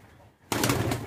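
A king pigeon gives a sudden, loud, close coo that begins halfway through after a quiet start and holds as a rough, steady burst.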